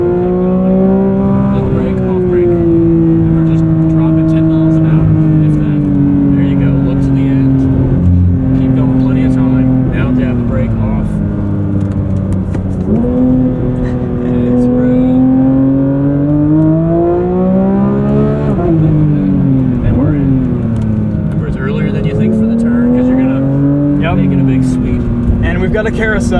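A 2024 Porsche 911 GT3 with double-wishbone front suspension laps a track, its engine note rising and falling steadily through corners for the whole stretch, loud and close, while a driver talks over it throughout.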